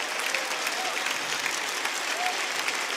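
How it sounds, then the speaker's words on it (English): Big round of applause from a live audience at a Rainbow Six Siege game presentation, a continuous, even wash of many hands clapping with a faint crowd murmur. "Please give a big round of applause to Simon and Emilien."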